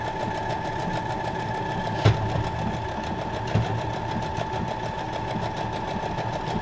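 Domestic sewing machine stitching fabric for a junk journal cover runs in a steady, fast mechanical whir with a couple of brief knocks, close and moderately quiet, with no talking.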